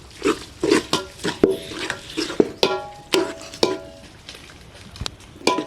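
A utensil knocks and scrapes rhythmically against a pot while mashing a spinach and coconut curry, each close, sharp clank falling about every half second.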